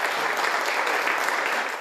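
Steady applause from an audience at a Victorian government budget event, dense and continuous clapping throughout at an even level, with no pauses and no speech.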